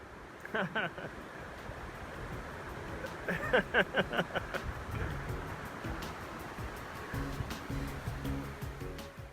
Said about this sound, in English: You definitely see why this is considered one of the gnarliest sections of rapids